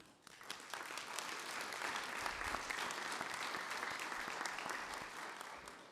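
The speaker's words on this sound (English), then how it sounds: "I would love to give Broadway Maricopa a big hand of applause." Council-meeting attendees clap for the Broadway Maricopa youth theatre group, applause swelling quickly after a quiet start and holding steady, with individual claps audible near the front.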